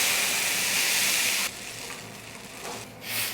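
Water poured into a pan of egg bhurji that has been frying over high heat hits with a loud, steady hiss, then fades to softer bubbling sizzles.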